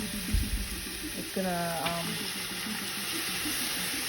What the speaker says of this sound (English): let's go ahead and add some hot water to that